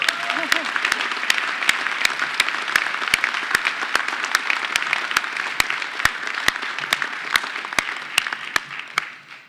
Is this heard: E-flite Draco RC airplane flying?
no